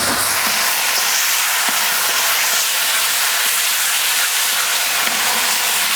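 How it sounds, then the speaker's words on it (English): Satay sauce with king prawns and peppers sizzles on a Kamado Joe grill, giving a loud, continuous, close hiss that stays steady throughout with no talking. "Coming up to a boil, everything's caramelising beautifully."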